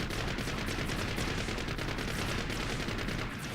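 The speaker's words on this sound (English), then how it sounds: "let's do some shooting" Dense, continuous rapid gunfire from the Gundam Breaker 3 video game on PS4, a loud unbroken stream of shots filling the whole stretch with no pauses.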